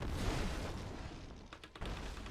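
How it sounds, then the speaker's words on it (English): Lightning Archon explosions in the Diablo 3 video game make a continuous rumble of booming blasts with a couple of sharper bursts near the end, all without talk. "lightning explosions. Bazap, bazap."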